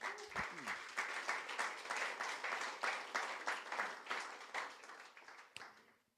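A church congregation breaks into sustained applause during a Spanish-language sermon, many hands clapping in a dense, steady wash that holds for several seconds before fading out.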